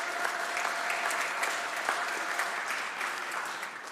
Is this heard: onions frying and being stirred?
no